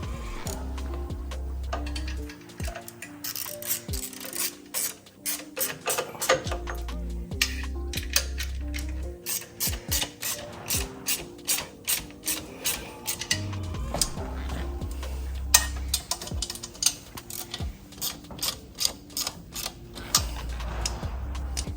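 Ratchet wrench tightening the exhaust nuts on a Harley-Davidson Low Rider ST, rapid clicking bursts repeating in short runs with metallic clinks and pauses between, close and alone.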